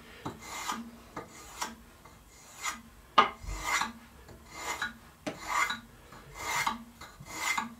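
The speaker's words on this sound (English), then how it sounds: "So we can just do this with a spoke shave." Spokeshave shaving poplar wood for an old-time sled, giving a steady series of rasping, scraping strokes, about ten close, rhythmic passes with brief pauses between them and no talking.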